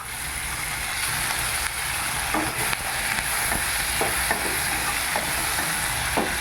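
Onions and tomatoes sautéing in a pan for a Tamil sundakkai kuzhambu, a steady close sizzle with repeated scraping stirs of a spoon against the pan.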